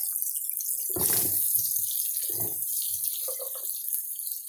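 Potatoes tumbling into a hot pan of melted butter and canola oil, giving a sudden loud sizzling hiss that dies back to a quieter crackle, with a couple of smaller sizzles after.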